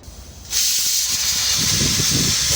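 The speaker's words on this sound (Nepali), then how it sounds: "उम्लेर गयो ल" A pot boils over on a stove in a small kitchen: a loud, steady steam hiss bursts in suddenly and keeps going without a break.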